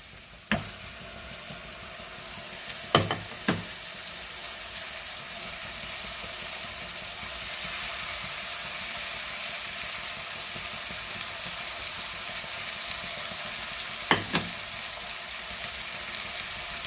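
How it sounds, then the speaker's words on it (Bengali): Ginger garlic paste fries in a pan for Bengali chicken kosha, giving a steady broad hiss of sizzling oil for the whole span. A few sharp utensil clinks break through near the start and again later, and no one talks. "আদা রসুনের পেস্টটা দিয়ে দিচ্ছি।"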